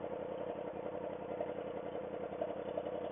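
A 2005 motorcycle, low-mileage and all original, idles close by with a steady, even low-mid engine thrum and faint mechanical clatter, alone and unchanging for a few seconds.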